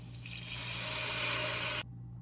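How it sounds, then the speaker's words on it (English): Water pours into a pan in a steady rushing stream for a couple of seconds, then cuts off abruptly, leaving quiet. "Just gonna add a little bit of water"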